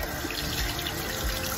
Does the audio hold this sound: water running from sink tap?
yes